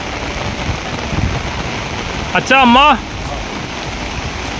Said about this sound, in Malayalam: ഞങ്ങൾ ഇറങ്ങാൻ കാത്തിരുന്ന പോലെ നല്ല മഴ പെയ്യുന്നുണ്ട് ഇപ്പോൾ.